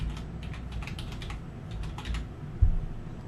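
A hotspot password being typed on a computer keyboard, with steady close-up clicking of keys in quick irregular bursts and a slightly heavier tap near the end.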